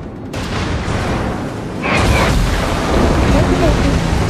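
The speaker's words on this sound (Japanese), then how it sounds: "霧島発砲。" Battleship Kirishima's main guns fire in World of Warships, a heavy booming salvo that swells suddenly about two seconds in over a continuous loud rumble, with a voice talking underneath.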